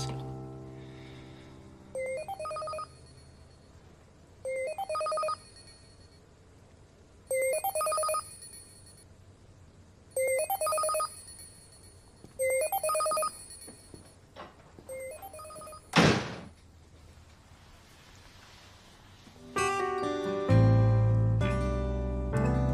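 A telephone rings for an incoming call, sounding repeated evenly spaced ring bursts separated by short pauses. A sharp thump follows, then a louder musical tone closes the sequence.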